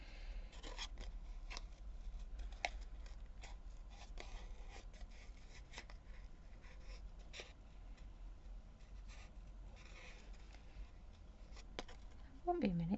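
Scissors snipping through paper card, likely vellum, during card making at a craft table, a steady series of short close cuts and rasps over low background hum.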